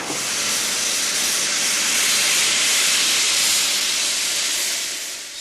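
Loud, continuous broadband hiss of steam venting from the steam locomotive Clan Line on the footplate, close and unbroken, swelling slightly and easing off at the end, with no talking.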